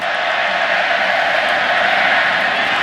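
Dense, continuous roar of a big stadium crowd at a Baylor versus West Virginia college football game, a steady loud wash of cheering voices with no break or distinct single voice.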